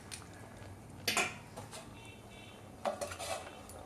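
A metal lid lifts off a pot of simmering jackfruit and prawn curry with two quiet clanks about two seconds apart and faint clinks between them, all in a hushed kitchen.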